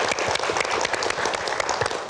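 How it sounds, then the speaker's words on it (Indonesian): A studio audience at a television talk show applauds steadily, a dense wash of many hands clapping throughout, with no voices over it. "Terima kasih sudah berikan tepuk tangan."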